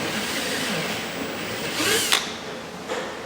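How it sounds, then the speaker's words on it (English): A drill bit drills out plastic pegs on a Cerwin Vega D9 speaker cover, a close whirring grind with a brief sharp squeal near the middle and another fainter one after, no voices. "Usually I just kind of end up getting a drill bit to drill those out."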